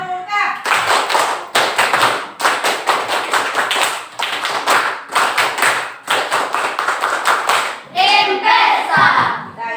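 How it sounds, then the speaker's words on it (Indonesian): A group of school students performs the Pramuka scout clap twice, crisp rhythmic bursts of fast unison claps separated by short pauses, close and loud, ending with children's voices calling out together. "Kalau setuju 2 kali tepuk pramuka"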